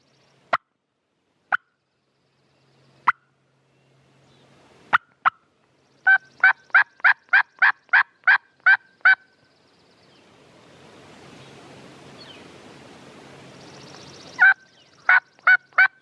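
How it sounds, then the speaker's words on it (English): A wild Merriam's turkey gobbles in the Washington outdoors, heard as a run of sharp, distinct calls. Some come singly with long gaps, then a fast series follows, then a few more after a stretch of faint wind or rustle. "She's gobbled over there with her."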